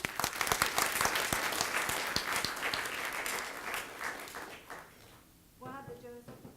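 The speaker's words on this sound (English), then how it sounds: "I applaud all of you." An audience at a hospital town hall claps loudly and steadily at first, the applause thinning and fading toward the end as a voice begins speaking.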